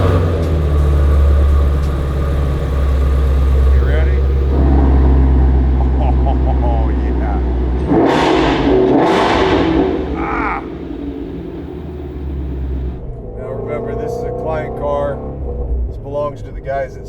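A Ford Mustang Shelby GT350R engine rumbles deeply and idles, then revs and pulls away, with someone talking over parts of it.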